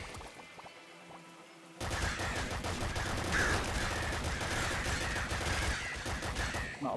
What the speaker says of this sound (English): it's just an endless stream of crows